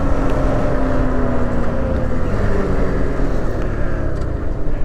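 A snowmobile engine drones steadily and loudly at close range, a constant motor roar with no talk over it.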